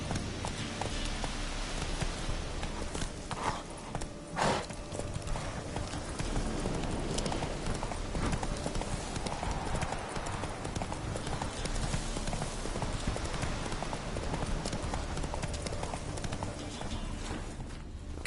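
Roach the horse galloping in The Witcher 3, a steady rhythmic clip-clop of hooves over a continuous background bed, with one brief louder knock partway through.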